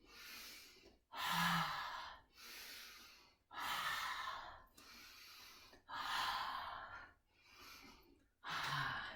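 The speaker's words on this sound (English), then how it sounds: "you can make a lot of noise doing this. It's really good to help push the breath out and empty the lungs" Forceful exhalations during a gentle seated yoga breathing exercise, eight strong breaths of about a second each in an even rhythm, close and breathy, with no talking.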